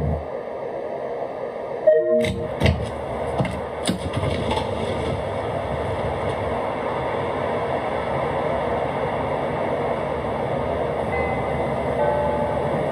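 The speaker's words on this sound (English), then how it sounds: "This is a Brown Line train to Kimball." A Chicago Brown Line train in the PlayStation 3 game Railfan rumbles steadily after a burst of clanks and knocks near the start, its running noise holding an even, moderately loud drone to the end.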